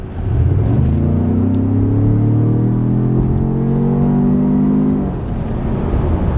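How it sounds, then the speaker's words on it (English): A powerful V6 SUV engine revs up smoothly while accelerating, its rising tone climbing steadily for several seconds before easing off, loud and close. "The engine sounds really nice under there. That V6 definitely sounds good."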